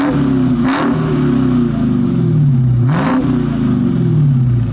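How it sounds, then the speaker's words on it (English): A 2021 Dodge Charger SRT Hellcat Redeye engine revs loudly up close, two sharp throttle blips rising and sliding back down over a deep steady idle rumble, with no talk. "when you actually rev the engine for even more noise, well, it gets quite a bit louder"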